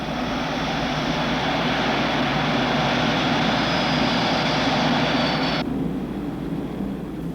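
Jet engines of a 1950s Air Force B-47 bomber spool up for takeoff, a loud, steady broadband roar that holds throughout, with its upper hiss cutting off sharply near the end.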